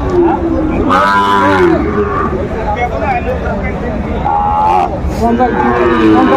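A Sahiwal bull calf at a Faridpur cattle market lows loudly several times, drawn-out bellowing calls close by, with people talking and a busy crowd murmuring underneath.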